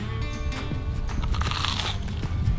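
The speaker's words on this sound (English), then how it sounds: "Can you hear the crunch?" A bite into a crispy bacon grilled cheese sandwich, toasted in bacon fat and butter, gives a close, steady crunch across the whole moment with crackly chewing texture and no talking.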